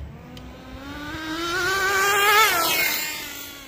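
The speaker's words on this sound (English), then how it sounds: "See me racing up and down the road here probably." A Traxxas Jato 3.3 nitro RC car races along a road, its high, buzzy engine whine swelling with a Doppler pitch drop as it passes close, then fading.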